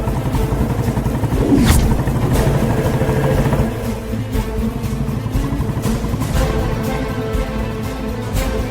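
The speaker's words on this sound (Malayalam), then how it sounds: "അവരുന്ന ബൈക്ക് കണ്ടോ?" A motorcycle engine drones steadily nearby, swelling slightly as the bike approaches, with some clattering and background noise and no speech.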